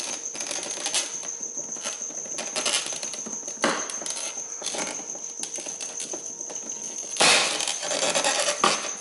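Plastic clips on a BMW M3 side grill pop and snap as the grill is yanked out by hand, a string of sharp little clicks and rattles, with a louder crack near the end.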